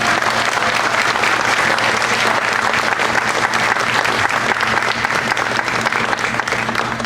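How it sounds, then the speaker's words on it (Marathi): A crowd at a Marathi community Ganesh Utsav celebration in Kansas in 2013 breaks into loud, sustained applause, with dense even clapping that carries on throughout. "तर यांच्या एनर्जी लेवलसाठी एकदा जोरदार टाळ्या होत्या"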